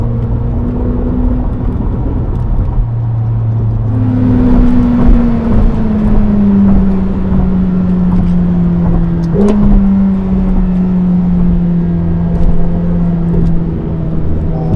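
A McLaren 750S with a V8 engine drones steadily while driving on Tokyo streets at around 3500 rpm, a loud, close, sustained engine hum whose pitch slides gently as the revs shift, with no voices.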